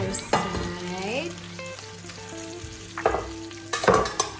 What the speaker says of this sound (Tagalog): this is how it looks like if you're cooking in salad master all-core skillet. See? Without oil.